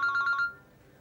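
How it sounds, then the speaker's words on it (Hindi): A phone ringtone trills in a quick repeating pattern for about half a second, then stops, leaving quiet. "फोन आ रहा है उनका।"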